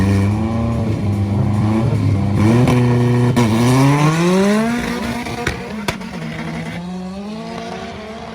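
Front-wheel-drive Vauxhall Astra and Corsa race cars at Crail Raceway in Scotland, engines loud and close, rising through revs with gear changes, then a second car's tone joining and fading as they pass.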